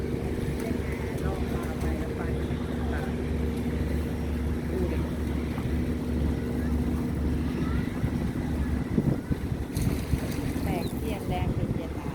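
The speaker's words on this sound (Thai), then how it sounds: "เรือโป๊ะขนาดใหญ่นะคะท่านผู้ชม" A large pontoon boat out on the water gives a steady, loud low engine drone with a continuous hum, mixed with wind buffeting the microphone throughout.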